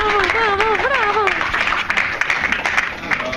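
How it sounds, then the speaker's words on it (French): An audience claps at a Halloween show. The applause is a scattered patter that starts under a voice and carries on more clearly once he stops talking. "S'il vous plaît, on l'applaudit aussi."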